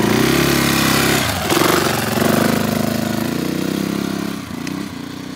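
A loaded adventure motorcycle's engine drones loud and close while riding off-road through desert sand in Baja, its steady, throaty note dipping briefly and then surging back.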